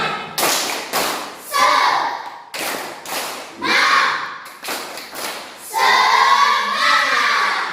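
Schoolchildren in an Indonesian classroom perform a rhythmic 'tepuk semangat' clapping chant, with bursts of claps in set patterns separated by short pauses and voices chanting along, loud and close.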